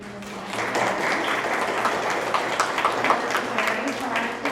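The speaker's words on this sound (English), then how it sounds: "let's give Robin a little round of applause for putting this together" A seminar audience at a Council on Aging preplanning event applauds steadily, a dense patter of many hands clapping at moderate volume for a few seconds, with voices mixed in.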